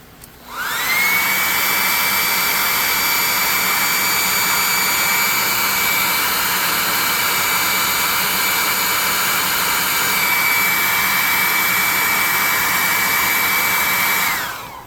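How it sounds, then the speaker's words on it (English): A hairdryer blows loudly and steadily on a carpet craft piece with a constant high whine, starting up and running unbroken for over twelve seconds before cutting off. "Let's hit it with the hairdryer and do it one part."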